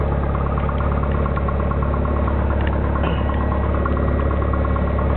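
A Piper Cherokee light aircraft engine idles steadily before taxiing, a continuous close drone with a low, even hum and no talking.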